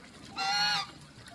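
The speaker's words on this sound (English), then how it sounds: "I saw the ducks decided to take a bath again" A single short, nasal honk from a waterfowl at bathtime, fairly clear against a quiet background.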